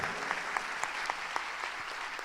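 Church worship congregation clapping together, the dense applause broken by regular sharper claps that fall in an even rhythm, steady and fairly loud.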